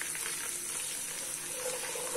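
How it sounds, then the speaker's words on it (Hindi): Ginger, garlic and spices sizzle and fry steadily in a pan, a close, constant hiss without pause. "हल्का सा फ्राई कर लेंगे।"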